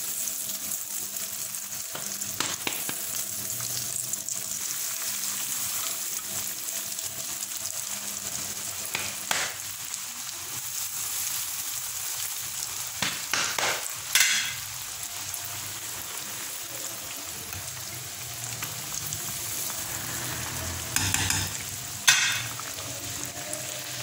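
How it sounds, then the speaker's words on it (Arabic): Chicken escalopes fry in a pan over medium heat, a steady soft crackling sizzle punctuated by occasional sharper spits and clinks as pieces are moved. "دابا غادي نبداو نقليو بحال هكذا كنرفدوهم بهذه الطريقه"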